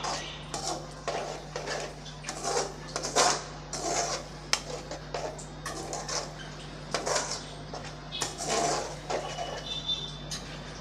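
A spoon scrapes and clinks against a pan in irregular strokes as brinjal curry is stirred, with a steady low hum underneath.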